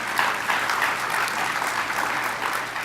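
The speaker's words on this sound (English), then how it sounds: "We can clap for that" A lecture audience at a Union Agency talk by Sally Jewell breaks into moderate applause, with a quiet, continuous patter of hands that neither swells nor fades sharply.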